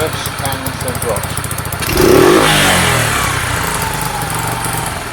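Sinnis SC125 motorcycle engine at idle, then revved hard; the revs hang high for a moment before sagging back down, loud and close, with someone talking over it.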